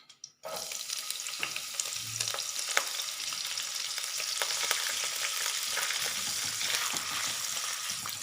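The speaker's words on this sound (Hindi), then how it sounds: "एक कढ़ाई में 2 टेबल स्पून ऑयल शामिल किया और इसमें सिर्फ एक गाजर लंबाई के रुख कटी हुई इसमें शामिल करेंगे" Lengthwise-cut carrot frying in two tablespoons of oil in a kadhai, a sudden loud sizzle bursting in after a brief quiet moment, then a dense continuous crackle with occasional stirring clinks.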